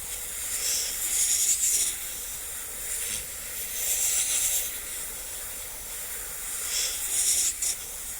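An airbrush hisses in short, repeated bursts while fogging white paint over a stencil, each spray swelling and fading, with a soft steady background hiss between passes.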